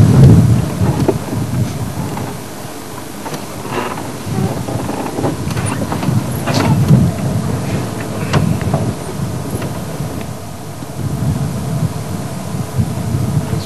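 Morning wind blows outdoors during a drive, a loud rumbling buffeting across the microphone that surges and eases continuously, with no voices.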